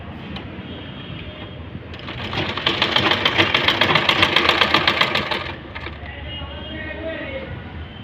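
An electric sewing machine stitches boys' pants, a fast steady mechanical whirring chatter that starts after a couple of seconds, runs loud for about three seconds and then stops, with a quiet room hum around it.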